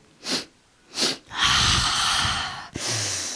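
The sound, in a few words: storyteller imitating a giant cannibal woman sniffing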